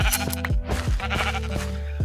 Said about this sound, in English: that's not how you shear a sheep